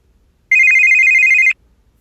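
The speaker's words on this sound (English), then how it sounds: "Phone ringing." A telephone rings once in a quiet room, a single bright electronic tone lasting about a second, clear and close with silence before and after.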